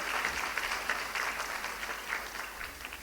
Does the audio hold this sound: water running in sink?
no